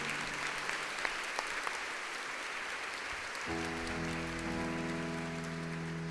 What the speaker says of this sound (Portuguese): Pode aplaudir e aplauda com alegria